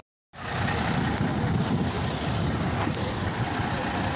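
A Kenworth W900 truck engine rumbles steadily nearby, a broad low drone that starts abruptly after a brief silence and holds at an even, loud level without talk.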